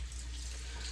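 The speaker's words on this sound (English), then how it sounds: "I turn my sink on, I'm getting the water warm." A bathroom sink tap runs steadily, warm water pouring into the basin in a continuous close hiss and splash without pause.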